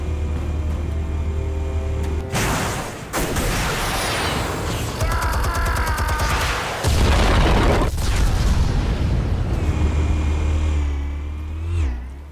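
Explosives detonate in The Batman video game, heavy booming blasts arriving in bursts over a continuous low rumble with mechanical rattling, loud and close, with no talk.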